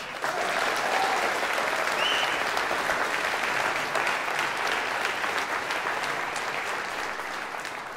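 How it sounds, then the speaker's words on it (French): Sustained applause from a large crowd at a political campaign rally, dense and steady throughout, with no break in the clapping. "Je vous demande d'applaudir Mélanie Novak."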